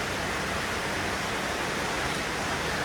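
Steady rain pours down outside a house, a dense, even hiss that fills the whole stretch without pause or voices.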